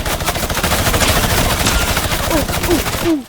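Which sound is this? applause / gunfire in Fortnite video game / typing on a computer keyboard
gunfire in Fortnite video game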